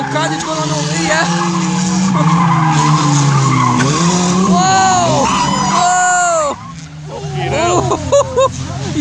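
Junior banger racing cars skidding and crashing on a dirt track, engines roaring with tires squealing and screeching in rising sweeps, loud and close, while spectators shout and scream excitedly over the action.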